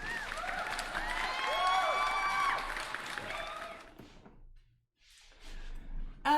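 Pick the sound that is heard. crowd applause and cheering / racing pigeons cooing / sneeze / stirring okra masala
crowd applause and cheering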